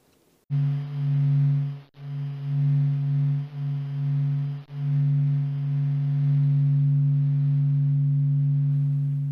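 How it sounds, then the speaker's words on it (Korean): Sonified recording of solar plasma waves: a steady, sustained low electronic tone with a buzzing, crackly texture, briefly dipping a few times before droning on evenly. "이제부터 들어볼 소리는 관측 장비에 기록된 파동을 소리로 변환한 것입니다"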